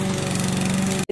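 A lawn mower engine runs loud and close with a steady buzzing drone, then cuts out abruptly and briefly at the end.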